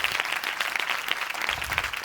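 A church congregation claps loudly for God during a Christian testimony service, a dense, continuous burst of many hands applauding with no voices over it.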